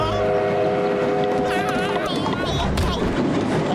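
A train runs in a Tamil cartoon with a busy, loud rumbling, clattering rail sound, plus a whistle-like tone, heard alongside music and a wavering character voice.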